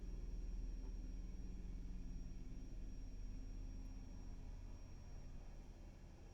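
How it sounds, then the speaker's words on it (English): A low-flying helicopter passing outside a house produces a steady, deep rumble with broadband noise, continuous and fairly loud throughout, slowly easing slightly toward the end with no talking. "sometimes a low-flying helicopter comes by"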